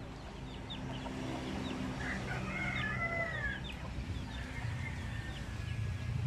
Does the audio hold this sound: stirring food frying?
no